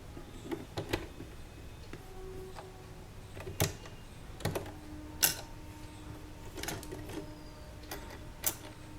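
A domestic sewing machine stitches a zip onto an orange kurta with a zipper foot, giving a fast, even mechanical whir broken by a few sharp clicks and pauses, close and moderately loud, with no talking.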